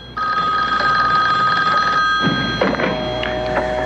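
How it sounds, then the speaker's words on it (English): A telephone in a 1970s house rings with a loud, steady electronic bell tone that cuts off and is followed by a shorter burst of ringing, close and clear without any talking. "Their phone began to mysteriously ring."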